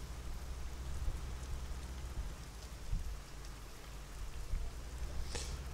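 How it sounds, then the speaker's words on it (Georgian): Steady rain in the Arma 3 game world patters on surfaces as an even, dense hiss with scattered louder drops, continuous throughout and with no talk over it. "საშინლად ხმაურობს ეს წვიმა"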